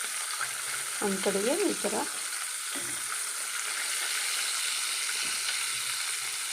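Fish coated in chiroti rava and cornflour sizzles steadily in a pan, a continuous bright hiss of hot oil, with someone speaking briefly over it and occasional soft clinks.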